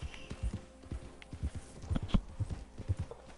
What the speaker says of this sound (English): That's a strong-looking steed.